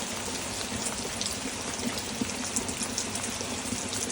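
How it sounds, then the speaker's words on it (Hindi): Steady rain falling in cool weather, a soft continuous patter and hiss with scattered faint drips, fairly quiet and uninterrupted, with no voices. "वो बरसात कैसे हो रही है?"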